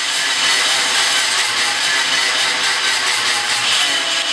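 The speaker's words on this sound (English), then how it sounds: "The safes are also vandalized with chainsaws." A chainsaw cuts into a metal safe during a store break-in, giving a loud, harsh, continuous buzzing grind that holds steady throughout with no pauses.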